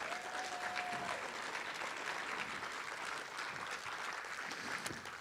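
A seated audience at a Laguna Woods Democratic club meeting applauds candidates, giving steady, even clapping that holds at a moderate level for several seconds.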